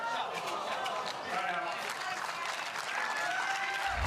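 A crowd applauds at a championship court during a tournament's final day, a steady wash of clapping and cheering from many people, with some voices mixed into the ovation.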